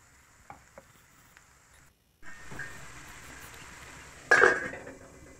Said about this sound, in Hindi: हमें मसाले तब तक भूनने हैं जब तक कि ये मसाले ऑयल ना छोड़ने लगे